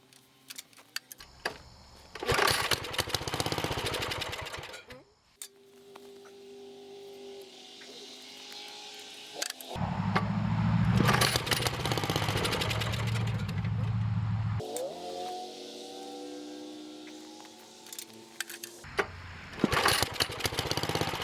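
Kohler engine on a Wheel Horse 704 tractor cranking in repeated bursts without catching after a bearing plate repair, each attempt a loud churning stretch separated by quieter pauses with a voice between them.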